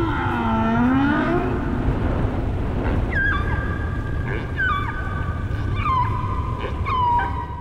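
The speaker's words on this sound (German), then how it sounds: "Dieser riesige Wal wird von Biologen als Buckelwal bezeichnet." A humpback whale gives a long series of loud, eerie calls, with sweeping moans followed by repeated upward whoops, all set against a dense rumble.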